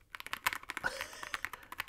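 Quick clattering keystrokes on a Redragon EISA MAX gaming keyboard, near and moderately soft, a dense run of taps with a few slightly louder presses mixed in.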